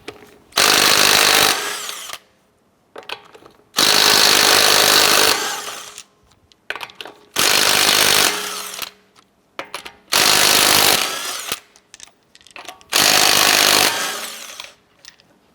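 An impact-style power tool on a 19mm socket removing lug nuts from a 2004-2008 Acura TL wheel, giving five loud rattling bursts of about two seconds each, separated by short pauses and faint handling clicks.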